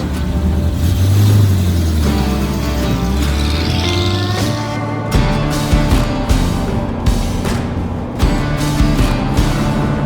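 A 1942 Packard Eight convertible coupe drives along a country road, its engine holding a steady low drone that rises and falls in pitch, with a few light knocks toward the end.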